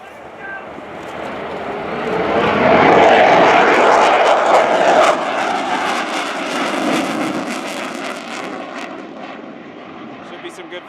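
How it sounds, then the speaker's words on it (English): A Belgian Air Component General Dynamics F-16A MLU Fighting Falcon roars past during an airshow display, its jet noise swelling loud, peaking, then fading into a distant rumble, with a commentator speaking over it. "General Dynamics F-16A MLU Fighting Falcon."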